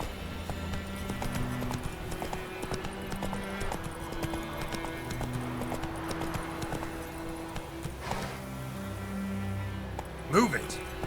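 Horse hooves clip-clop steadily at a trot or gallop in The Witcher 3, running under game music and a voice, with a short louder burst near the end.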